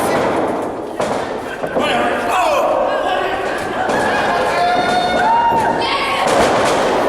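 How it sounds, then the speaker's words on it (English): A wrestling arena crowd roars and jeers in sustained, loud displeasure, a dense wall of voices with a few thuds and whistles cutting through, while a commentator talks over it. "this crowd voicing their displeasure for Michael Nothing"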